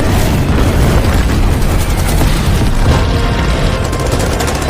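Artillery barrage in a Korean War battle film: loud, continuous rumbling explosions and blasts crowd together without a break for the whole stretch.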